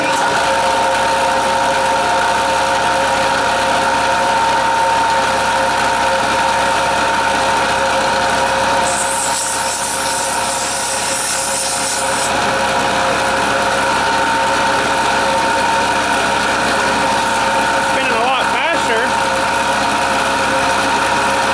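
An electric air compressor runs with a belt drive on enlarged pulleys, putting out a loud, steady motor hum and mechanical whine for the whole stretch, with a brief hiss partway through.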